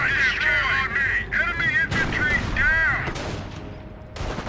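Gunfire in Company of Heroes during the St. Lo mission of the Normandy invasion: a dense, continuous battle din of shots and explosions under overlapping radio chatter and voices, with a brief lull before the firing resumes.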